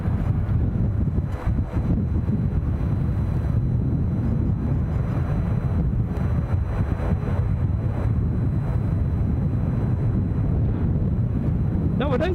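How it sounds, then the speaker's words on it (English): Heavy wind buffets the microphone at Edinburgh Airport, a loud continuous low roar with gusting rumble throughout, and faint voices partly buried beneath it. "Hopefully the wind won't take too much of the noise away from you."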